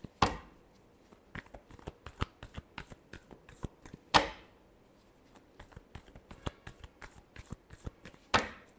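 Tarot cards are shuffled up close, with quick soft riffling flutters and sharp slaps as the deck is tapped together, repeating in bursts through a quiet room without speech.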